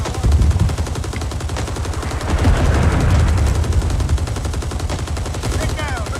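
An enemy machine gun firing in the video game Rising Storm: loud, rapid, sustained bursts of automatic fire, close and continuous throughout, with some gunfire overlapping.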